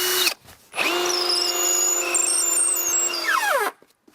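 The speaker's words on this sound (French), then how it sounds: "et maintenant je visse." A power drill drives a screw into pallet wood in one long whirring run, its motor whine steady and close, then winding down before stopping, with short pauses before and after.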